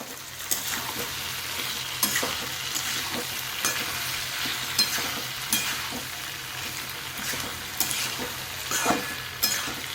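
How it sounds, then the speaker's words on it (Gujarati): Okra and potato sabzi sizzling steadily in a frying pan while a utensil stirs it, with repeated soft scraping strokes against the pan over the constant close frying hiss. "ભીંડા સરસ ચડી ગયા છે અને બટાકા પણ સરસ ચડી ગયા છે. એને આપણે સરસ આપણે મિક્સ કરી દઈશું."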